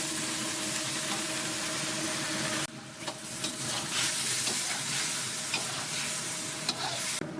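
Pork in soy sauce and rice wine being stir-fried in a pan, a steady sizzle and hiss with scraping stirs throughout, a brief dip near three seconds before the frying swells again, no voices.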